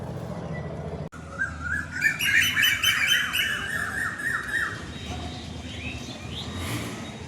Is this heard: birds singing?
yes